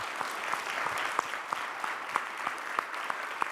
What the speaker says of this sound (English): please clap hands for their tremendous effort